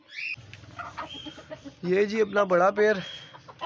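Hen clucking near a man indoors in cold weather where birds are kept, short harmonic calls standing out after the opening seconds with someone talking around them.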